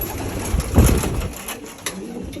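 Pigeons coo and flutter inside a racing-pigeon loft, a steady murmur of close, overlapping bird calls with scattered wing and movement sounds.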